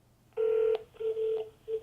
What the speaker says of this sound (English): you will see right here on my phone that, oh, it's ringing